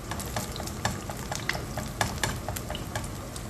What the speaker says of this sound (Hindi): फ्राई एग बन रहा है